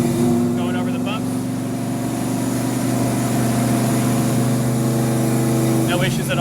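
Engine of a 1993 Ford Mustang, a roughly 1,000 hp street car, drones steadily and loudly from inside as it shifts into third gear and rolls over bumps, with a brief change in tone near the end.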